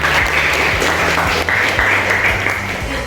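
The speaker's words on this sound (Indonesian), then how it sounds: "Tepuk tangan buat teman saya." Applause for a classmate in a classroom, with a steady, dense clatter of many hands that stays loud for the full stretch and has no talk over it.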